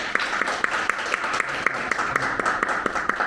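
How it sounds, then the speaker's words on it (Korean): An audience claps in a steady burst of applause, many hands together at moderate distance, sustained for a few seconds. "큰 박수를 부탁드립니다"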